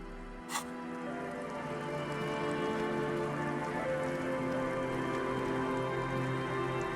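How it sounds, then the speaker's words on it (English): Steady rainfall in the video game Disco Elysium, a soft continuous hiss and patter that holds at an even level throughout, with one brief sharp click near the start. "It's getting late, and it's raining."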